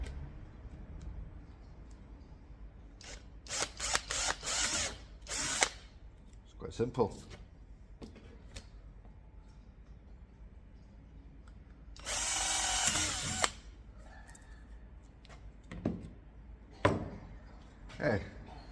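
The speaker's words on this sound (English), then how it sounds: "Let's drill." A power drill with a 4mm bit bores holes for a number plate on a Volvo V40 front, in several short whirring bursts separated by pauses and handling clatter, with someone speaking briefly between them.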